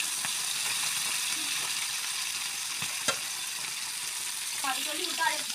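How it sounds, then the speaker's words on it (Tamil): Fish coated in masala fries in a pan, a steady close sizzle with occasional stirring clinks, and a voice briefly speaking near the end. "இப்போ பட்டுன்னு வறுத்து எடுத்துடலாம்."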